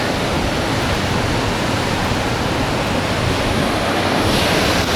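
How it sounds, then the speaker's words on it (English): Rushing water at Reversing Falls, a tidal falls beside a road bridge, roars as a steady, dense wash of broadband noise that holds at a constant loud level throughout, with no voices. "There's the falls right there. She's running hard too."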